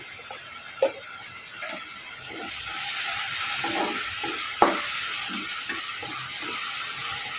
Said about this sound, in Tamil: இப்போ இதை நம்ம வதக்கிக்கலாம்